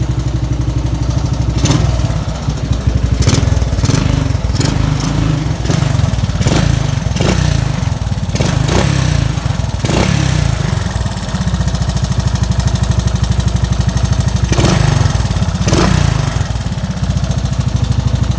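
Single-cylinder engine of a 1984 Honda ATC 200s three-wheeler idles loudly up close, punctuated by a series of sharp throttle blips and revs spread across the whole stretch, no voices.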